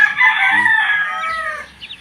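A rooster crows once, loud and close, a long drawn-out call that trails off, followed by a couple of faint clucks.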